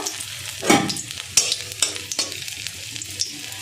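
Torn dry red chilli and pieces of ginger sizzle in a little white oil in a kadai, a steady close frying hiss broken by spoon-stirring clicks, without talk.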